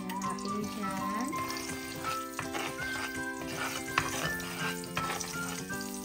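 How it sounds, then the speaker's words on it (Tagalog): Steak sautéing with plenty of garlic in hot coconut oil, a steady close sizzle and crackle of frying with occasional stirring scrapes, continuing throughout with no voices. "Saute lang naman ako ng steak dyan with lots of garlic"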